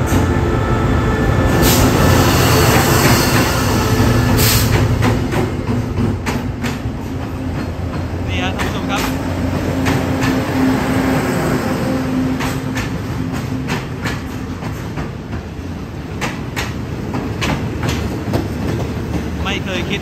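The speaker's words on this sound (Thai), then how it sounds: "ขบวน38มันเข้าสุราษฎร์แล้วครับ รถก่อนเวลาประมาณ4นาทีนะมาดีครับ" Thai special express train no. 38 pulling into Surat Thani station at night, loud steady rumble with rhythmic wheel clatter and a high whine throughout, heard up close as long carriages roll past.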